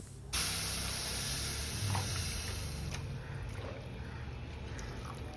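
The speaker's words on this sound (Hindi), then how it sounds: "अब डालेंगे मलाईदार दूध" Creamy milk pouring into roasted dalia in a pan, a steady loud hissing splash that starts abruptly and carries on evenly, close up, no talk.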